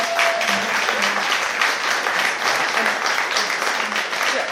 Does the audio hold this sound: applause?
yes